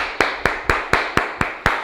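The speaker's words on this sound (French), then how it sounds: "Et on s'applaudit, guys." Seven sharp, evenly spaced claps ring out in unison as a martial arts class applauds together, a crisp steady rhythm at close range with no voices.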